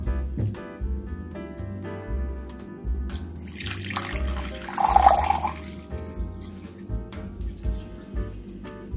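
Water is poured into a measuring cup for Jamaican cornmeal pudding, a soft trickle that swells into a brief louder splash midway, heard close but quiet over low kitchen background noise.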